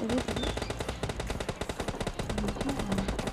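Rapid automatic gunfire in the battle-royale video game PUBG Lite, a loud, continuous stream of closely spaced shots with a steady machine-gun rhythm, heard alone without talk.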